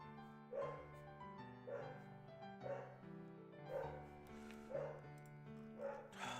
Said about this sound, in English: These dogs just constantly bark and bark and bark and bark, and they never, ever, ever stop.